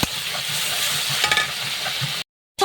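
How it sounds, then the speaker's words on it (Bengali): Shrimp heads with salt and turmeric fry in a pan with a loud, steady sizzle and occasional stirring. The sound cuts out briefly near the end. "ভালো করে একটু ভেজে নেবো আচ্ছা।"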